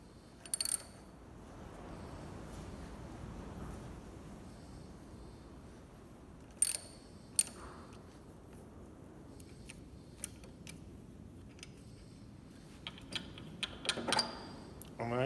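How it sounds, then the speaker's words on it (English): A hand ratchet winding off under tension gives sparse, faint metallic clicks in short bursts over a low background hum. "get the ratchet, and hopefully you see there it's actually winding off."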